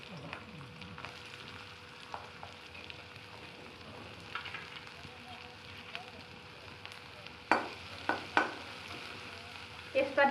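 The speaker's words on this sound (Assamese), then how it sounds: "দুটা পিয়াজ মই কাটি ইয়াত দি দিছো।" Chopped onions fry in refined oil in a wok for Assamese lemon rice, giving a quiet steady sizzle, with louder stirring clatters near the end as a person talks over it.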